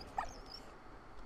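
A dog whimpers in the World War I video game Valiant Hearts: The Great War, a single short, high whine over faint background game ambience with no talking.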